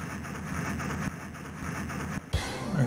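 Train in the TMNT Turtles in Time video game, a steady rumbling rail clatter with a brief dropout near the end before a louder burst of game sound.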